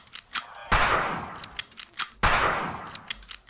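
Two sharp gunshots fired in the hunting video game Uktena 64, each a loud crack followed by a decaying echo, spaced about a second and a half apart over quiet, faint game ambience.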